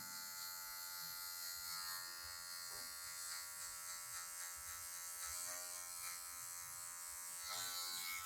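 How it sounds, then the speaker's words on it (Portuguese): An electric hair clipper works only its tip along a mid fade, blending away a guideline with a steady, quiet buzzing hum that holds evenly throughout, with no talking. "Eu vou vir só com a pontinha da máquina, removendo essa marcação que ficou."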